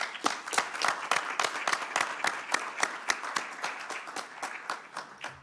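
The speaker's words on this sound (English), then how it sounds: "that deserves a round of applause" A Sacramento city council meeting audience claps in a moderate round of applause. The sharp claps are dense and slightly uneven and fade toward the end.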